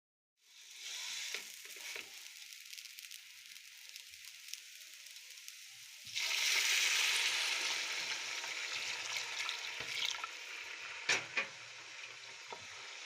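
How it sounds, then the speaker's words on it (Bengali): Polao rice sizzles and crackles in a hot pan, a steady frying hiss that swells louder partway through, with occasional scraping stirs and light clinks, no voices. "এখন পোলাওর চালটা ভেজে নিচ্ছি"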